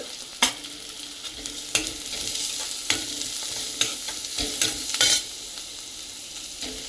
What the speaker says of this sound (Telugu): ఇది కొంచెం ఫ్రై అవ్వనివ్వాలి